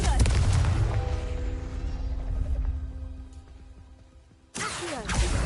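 A Confringo explosive spell blast in the Hogwarts Legacy video game gives a loud booming burst that rings out and fades, then a second sharp blast cuts in near the end, with a voice heard briefly.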